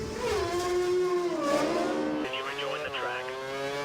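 A race car in a racing video game comes into the pits for a second stop on prime tyres, its engine whining loudly with shifting pitch as it slows and revs; a voice talks over it.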